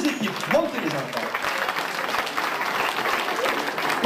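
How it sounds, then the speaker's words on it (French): An audience at a children's puppet show claps for two teams of kids, a dense burst of applause that carries on for a few seconds, with a voice briefly heard over it at the start. "On applaudit bien fort les 2 équipes."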